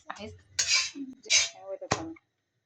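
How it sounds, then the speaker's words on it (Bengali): A spoon scrapes and clinks against a pan as chotpoti mixture is stirred, in short bursts with brief pauses, close and fairly quiet. "এখন আমার বান্ধবী নাড়াচাড়া করছি"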